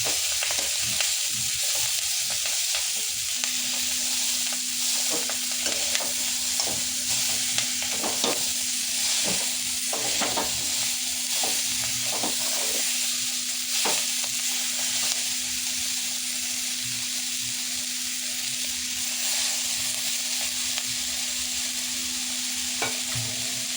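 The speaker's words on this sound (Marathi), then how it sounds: "तर याला 2 मिनिटं मस्त अशी तेलावर फ्राय करून घेऊया" Leafy chana greens frying in hot oil in a kadhai over a low flame, a steady close sizzle broken by frequent scrapes and knocks of a spatula stirring through the leaves.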